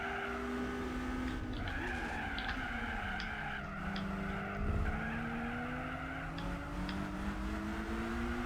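Car in the Gran Turismo 4 video game braking hard with tires skidding, a sustained squeal over steady engine drone that rises and falls in pitch across the whole stretch, with no talking.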